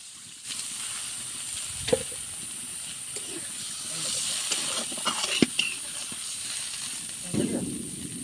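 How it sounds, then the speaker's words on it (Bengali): A pot of desi rui fish curry with five kinds of vegetables boiling on the stove: a soft continuous bubbling hiss with occasional pops, near and moderately quiet, with a voice talking at times. "এই যে মাছের ঝোলটা টকবক করে ফুটছে"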